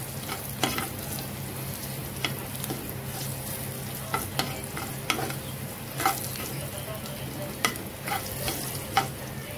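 Garlic fries in a pan for a chilli vegetable dish. A soft continuous sizzle carries on under scattered spoon scrapes and taps, close but fairly quiet, and no voice is heard.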